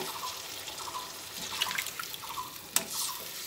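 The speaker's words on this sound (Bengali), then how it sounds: "জল দিয়ে দিলাম" Water is added to a simmering potol-peel bora curry: soft trickles and scattered drips, with one sharper splash near the end, fairly quiet and close.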